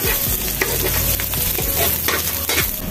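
Chopped garlic sautés in hot cooking oil in a pan for a Filipino lechon paksiw, giving a loud, steady sizzle broken by the close scrape and knock of stirring. No one speaks.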